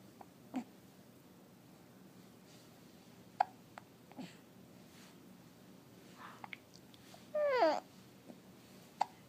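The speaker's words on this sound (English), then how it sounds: "Hiccups go away, huh?" Hiccups from a young child at home, several short sharp bursts spread irregularly over quiet background, with a louder cluster near the end.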